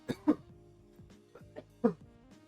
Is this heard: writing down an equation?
no